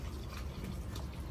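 Water poured into plaster of Paris for soaking cloth in a toddy shop miniature craft, a short close bubbling, gurgling fill sound at steady volume with no talk.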